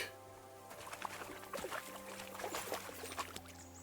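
Water in the Kingdom Come Deliverance 2 game world, a soft pouring, trickling flow with small splashes and drips over a low steady hum, fairly quiet and with no talking.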